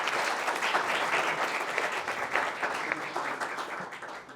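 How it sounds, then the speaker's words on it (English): Audience applause fills a pitch event room, a dense, steady wash of many hands clapping for about four seconds, moderately loud and unbroken. "So big applause to Malki Sakrovišta."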